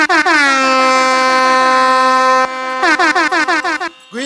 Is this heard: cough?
no